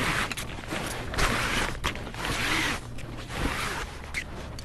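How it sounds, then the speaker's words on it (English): Zippers on an RS Quest sailboat cover are pulled open outdoors, a continuous close scratchy rasp with uneven bursts running through the whole span, no voices. "Then I unzip the bottom one, and I unzip the top one"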